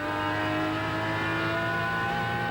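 A race car engine at Bathurst in 1985 holds a steady, loud, sustained drone at moderate revs throughout, heard from close by with no voices.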